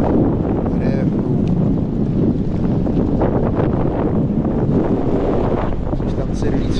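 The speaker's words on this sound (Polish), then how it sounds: "ale wiatr nawala" Heavy wind buffets the microphone on a beach, a constant loud rumbling roar with faint surf underneath, running throughout with no speech over it.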